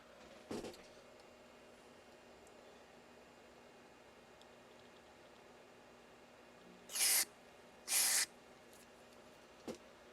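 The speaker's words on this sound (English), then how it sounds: "we're just going to spray some deoxit down on those contacts" Two short, sharp bursts of DeoxIT contact cleaner spray hiss in quick succession onto the contacts of an Onkyo TX-810 receiver amplifier, over a quiet background, with a couple of faint clicks around them.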